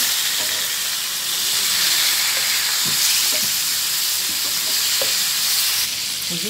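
Pieces of katla fish fry in oil in a pan after being turned, a continuous close sizzle with several soft clacks from a spatula scattered through it.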